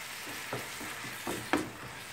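Bolognese sauce with tomato pulp and parsley sizzles softly in a pan while being stirred. A faint, even hiss is broken by a few scraping strokes of the spoon, with no voices.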